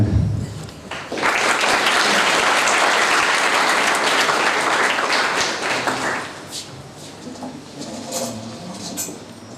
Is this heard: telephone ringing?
no